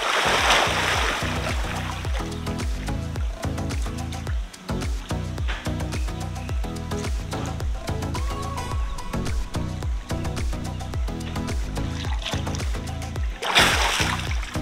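Swimmer splashing through the water in a resort pool in Curaçao, with steady rhythmic sloshing and splashes close by, continuous for the whole stretch and a burst of louder splashing near the end.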